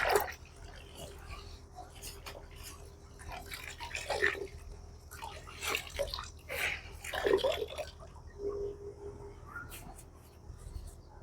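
A fabric suit cloth is soaked and squeezed in water, giving wet sloshing, squelching and dripping sounds in irregular bursts at close range against a low background hum.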